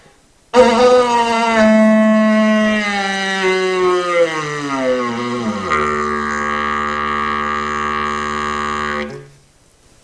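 A wind instrument plays a slow lip-buzzed drone, one sustained rich tone that sags in pitch before settling into a steady hold for several seconds, then stops.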